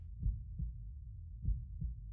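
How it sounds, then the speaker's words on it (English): A heartbeat from the OMORI video game thumps in a low, muffled double-beat rhythm, two lub-dub pairs over a soft low drone, with no talking. "I could hear the heartbeat."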